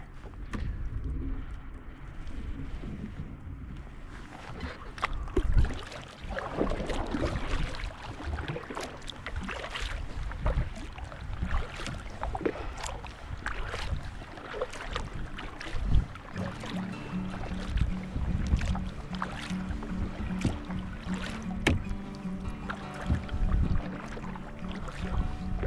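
Kayak paddling on open water in Alaska on a return trip from salmon and rockfish fishing, rhythmic paddle splashes and dripping strokes under wind buffeting, close and continuous.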